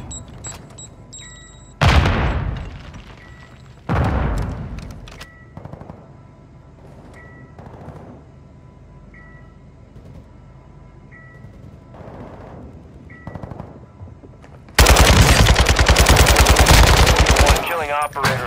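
Call of Duty: Modern Warfare II gunfire in the Building 21 map: heavy bursts of automatic fire and booming shots, with a sustained loud volley at the end, beeping game cues and brief radio voice lines between.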